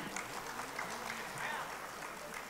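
A crowd at a Gerindra party political rally in West Java claps in a brief, steady patter of applause with some indistinct voices mixed in.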